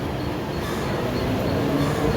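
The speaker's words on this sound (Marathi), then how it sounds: "ट्रेन आली." A train pulls into a Mumbai railway station with a loud, steady rumble that fills the whole moment, with no clear voices above it.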